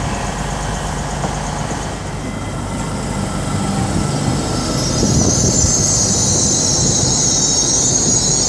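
A train, unit 221 117, rumbles and grinds as it departs Wakefield Westgate station on the East Coast Main Line, with a steady low roar and rising high-pitched wheel squeal.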